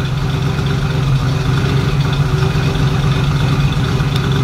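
A 350 V8 in an Oldsmobile Cutlass, first started after more than seven years, idles steadily with an even, throbbing rumble that holds without revving, close and loud with no talking.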